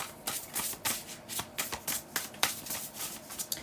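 Rapid riffling of a card deck, repeated in quick bursts with a crisp, papery flutter, close and fairly loud, no voices.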